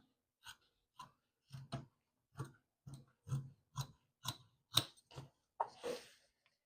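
Scissors cut through jeans fabric for a tote bag lining, about a dozen distinct crisp snips in an uneven rhythm, close and fairly quiet, with no speech.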